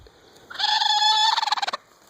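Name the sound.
broody Polish hen making strange noises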